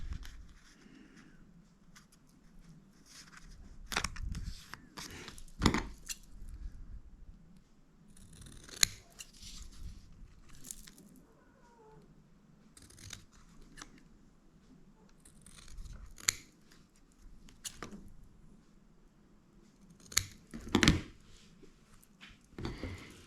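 Scissors snip through orange paper to cut a small round shape, giving a series of crisp, close cuts in separate bursts with quiet pauses and light paper rustling between them.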